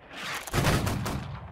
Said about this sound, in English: The shots are good, it's just the distance, guys.